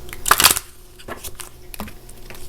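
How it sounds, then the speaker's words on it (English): A quick riffle of a large deck of cards near the start, then scattered softer shuffling rustles and taps, close and moderately loud. "it's such a huge deck. It's so hard to shuffle"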